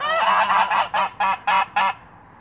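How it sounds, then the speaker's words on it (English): A run of loud, nasal Canada goose honks, about six calls in quick rhythmic succession, close by with no other sound. "What do you have to say about Canadian geese?"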